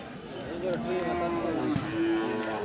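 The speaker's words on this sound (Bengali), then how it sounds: "দেখেন কতগুলো গরু উঠছে বাজারে" Cattle lowing amid a busy outdoor crowd at a village cattle market, with several long moos rising over a steady murmur of voices and bustle.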